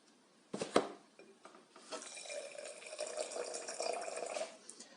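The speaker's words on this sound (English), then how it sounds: "And then I put water." A couple of knocks, then water pours steadily into a container, a close running splash that fills and tapers off near the end.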